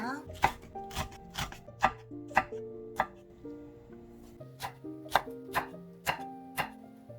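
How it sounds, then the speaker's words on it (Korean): Cheongyang chili peppers finely chopped with a knife on a cutting board for gochujang pancakes, a steady run of crisp, close knife taps roughly every half second, with a melodic music bed underneath. "청양고추도 잘게 썰어주세요."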